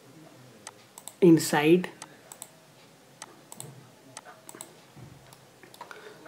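Computer mouse clicks while drafting in AutoCAD, light irregular ticks scattered at close range, with a short spoken word near the start.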